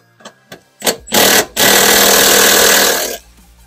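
A 3/8-inch drive ratchet loosens a bolt during catalytic converter replacement on a Citroen C1, starting with a few short sharp clicks and bursts, then a loud, close, steady motorized whir for about a second and a half.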